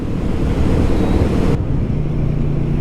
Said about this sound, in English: The engine's really smooth.